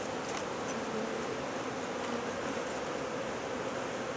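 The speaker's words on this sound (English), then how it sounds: "there are quite a few bees in this super" Many honey bees buzz inside a hive super in a dense, steady drone that stays close and unbroken throughout.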